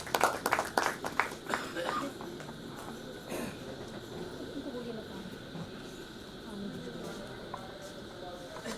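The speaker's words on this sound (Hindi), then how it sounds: "प्रभात पटेल के लिए बड़ा जोरदार ताली बजा दीजिए।" Audience applause for poet Prabhat Patel at a literary session of Magadh Mahotsav at Patna Museum: a short burst of clapping at the start that quickly fades under a low murmur of voices.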